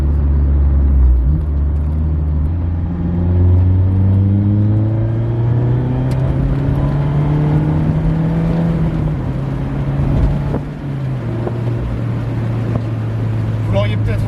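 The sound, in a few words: Mazda MX-5 ND1 engine with BBR Super Sport exhaust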